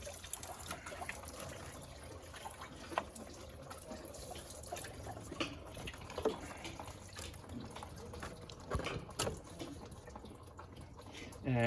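Water from a garden hose trickles and splashes steadily through a Toyota Corolla's coolant system during a flush, a continuous close liquid flow with small gurgles and drips.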